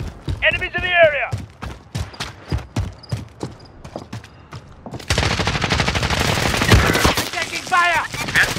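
Gunfire in Call of Duty: Modern Warfare, a sharp rhythmic string of close shots under a player's voice, turning into a dense, louder barrage of overlapping fire in the second half.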